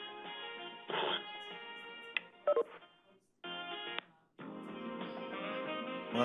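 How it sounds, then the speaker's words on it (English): Telephone keypad tones as a caller enters a host PIN on a conference line: a series of steady electronic beeps of varying lengths with short gaps between them, fairly clear and without any talk. "enter the host PIN followed by pound"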